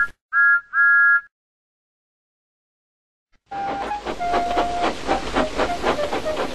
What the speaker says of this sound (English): And he whistled impatiently.